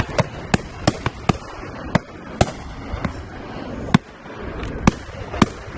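Shotgun shots fired at partridge on a driven game shoot at Warter Priory, a series of sharp, loud cracks spaced irregularly over several seconds, some closer and some distant, with no talking.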